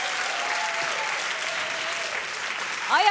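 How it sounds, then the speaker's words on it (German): Steady, dense audience applause at a song contest final, fairly distant and even throughout, with a brief cheer or whoop rising near the end. "Euer Applaus, genießt den Moment."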